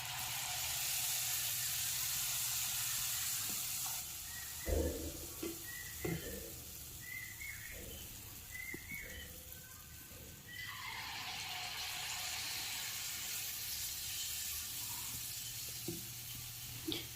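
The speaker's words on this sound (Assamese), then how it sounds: "কেৰাহী গৰম হৈছে, মই এনেকৈ এটা এটা পিঠা দি যাম" Palm fruit pitha fry in oil in a hot wok, a soft steady sizzle with occasional louder crackles and bubbling bursts as pieces go in, fairly quiet and close.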